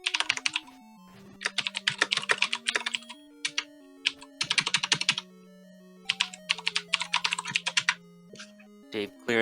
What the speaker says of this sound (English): And that gives us some mechanical keyboard hype